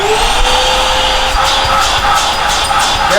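A Riccar R40P vacuum cleaner runs loud and close with a steady whining motor roar and a broadband rush of air through the hose. Its pitch holds constant throughout, with no voices.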